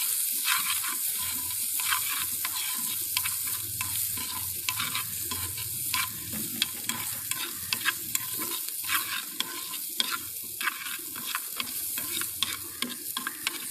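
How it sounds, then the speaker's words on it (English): Boiled vegetables seasoned with salt, pepper, oregano and chili flakes sauté in a hot pan, a steady close sizzle broken by repeated scraping and clacking stirring strokes, with no talking. "Just you have to saute it."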